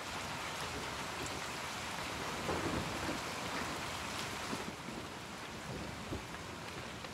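Heavy nighttime rain falls in a constant roar, with a low rumble like distant thunder beneath it and no one speaking.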